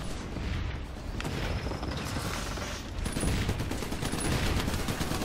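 A flak turret in the co-op video game Trenched fires continuously, a dense, loud barrage of rapid gunfire bursts that thicken and intensify partway through.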